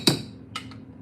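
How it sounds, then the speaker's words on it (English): One spoon is tapped against another, giving a sharp metallic tick followed by a fainter second tap, close and isolated. "I've got my other spoon here so I can clear off this spoon."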